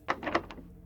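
A locked door handle rattles in a visual horror game: a short cluster of about four muffled clunks and clicks, close and fairly quiet, over a faint steady background hum.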